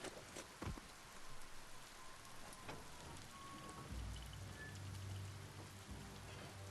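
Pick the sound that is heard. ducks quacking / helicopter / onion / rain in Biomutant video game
rain in Biomutant video game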